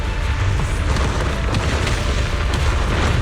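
Explosions in the video game Zenless Zone Zero, a loud, continuous rumbling boom with deep low-end roar and scattered crackling bursts, close and unbroken.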